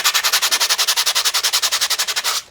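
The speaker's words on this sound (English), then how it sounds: "And always sand up towards the nose." New skateboard grip tape is sanded in quick, even back-and-forth strokes, about twenty close rasping swipes in a steady rhythm with no talk.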